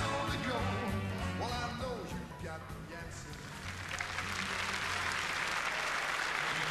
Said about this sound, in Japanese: 大きな拍手を受けています。